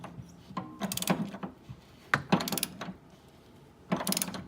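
Ratcheting socket wrench with a 1/2-inch socket clicking in several short bursts while tightening a replacement hot water heater element, fairly faint and close.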